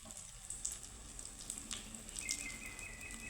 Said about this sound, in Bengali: এইভাবেই ভেজে নেব একদম দোকানের মতো